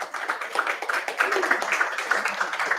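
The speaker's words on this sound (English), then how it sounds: "Let's give them a round of applause." A church congregation applauding during a Sunday service, a steady patter of many hands clapping at moderate distance, continuous for a few seconds with some voices mixed in.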